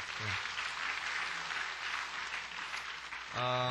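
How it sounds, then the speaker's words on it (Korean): Congregation applause during a church service welcoming members of the English-language worship group, a steady bed of clapping from a large room, with a voice starting to speak at the very end. "박수해 주시기 바랍니다."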